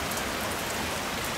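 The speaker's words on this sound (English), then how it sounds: "Just pissing rain. I mean, it's dumping." Heavy rain pouring down outdoors during a steering gear replacement on a 1978-1996 Ford/Lincoln/Mercury Panther car, a dense, loud, continuous hiss and patter with no other sounds.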